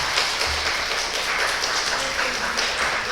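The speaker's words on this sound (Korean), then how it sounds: "우리 형한테 우리 박수로 환영을 하도록 하겠습니다." A church congregation claps in welcome during a Sunday service baptism, steady broadband applause that fills the room, moderately loud and continuous throughout.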